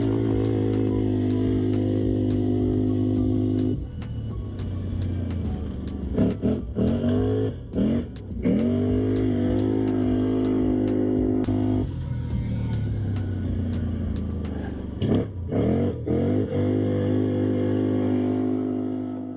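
An AODES Pathcross 850 Mud Pro ATV in 30th-anniversary trim runs close by, its steady engine drone rising and falling with several throttle blips and brief dips before settling back into a continuous rumble.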